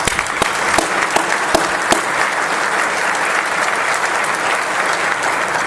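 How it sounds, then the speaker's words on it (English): An audience at a police awards luncheon applauds with loud, steady clapping. A few sharp individual claps stand out near the start, then the sound settles into an even wash that continues throughout. "So let's give them a round of applause."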